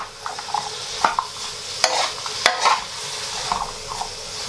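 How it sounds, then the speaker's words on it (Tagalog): Pancit canton noodles with meat and vegetables being sautéed in a pan, a continuous sizzle broken by repeated scraping stirs and a few sharp utensil clicks against the pan. "halo-halo nyo lang, gisa-gisa nyo lang. Just saute it."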